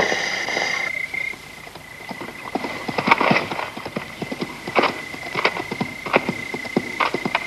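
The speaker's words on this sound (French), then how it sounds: "Voilà un groupe d'hommes à cheval." A group of riders on horseback approaches in a western setting, with hooves clip-clopping in a loose, uneven rhythm at moderate loudness, along with a brief high tone at the start.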